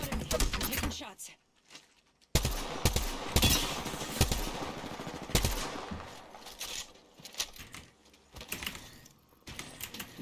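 Video game gunfire crackles in rapid bursts and single loud shots, with a short pause early on, close and sharp under occasional talk.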